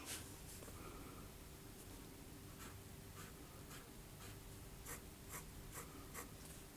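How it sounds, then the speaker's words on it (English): A London Pen Co. Nona 14 fountain pen with a firm nib scribbles on paper, soft scratchy strokes close up in quick irregular bursts over faint background hiss, no talking. "I guess I'll actually do a little scribbling"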